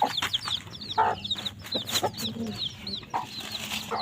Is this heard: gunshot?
no